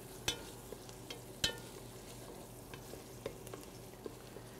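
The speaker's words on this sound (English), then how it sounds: "Now that my onions are sweating here" Onions sweating in a pan for roasted red pepper soup, a faint low sizzle broken by a few sharp utensil taps and scrapes, quiet and close with no voices.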